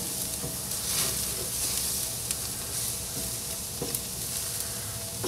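Steak sizzling on a barbecue grill, a continuous close frying hiss with occasional sharp pops and crackles throughout, no talk.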